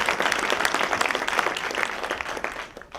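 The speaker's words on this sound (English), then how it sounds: "Round of applause for producer and co-director Dan Rybicky." An audience applauds a film's producer and co-director at a screening, with dense, steady clapping filling the room throughout and tapering slightly at the end.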